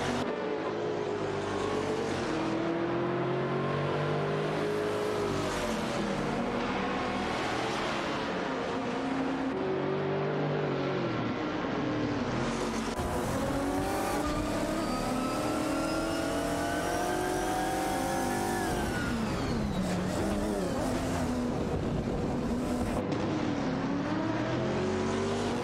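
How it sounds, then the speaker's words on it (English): Engines roar continuously in a racing video game, led by a Koenigsegg CCDT. Pitch climbs and drops through repeated gear shifts as the cars accelerate, loud and unbroken, with no talk. "The Vin XD is piloting a Koenigsegg CCDT, showcasing impressive speed and maneuverability"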